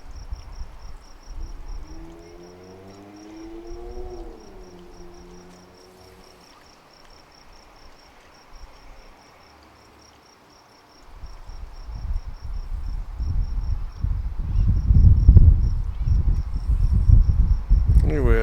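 An AISITIN 5.5W LED solar fountain pump sprays water through its nozzle head, a steady rushing hiss that starts midway and grows louder, with crickets chirping continuously in the background.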